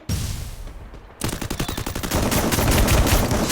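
Rapid automatic gunfire from the Free Fire battle royale game: a brief burst, a pause, then sustained loud volleys of shots that blur into a continuous roar, with no talk over them.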